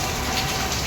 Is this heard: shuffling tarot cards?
no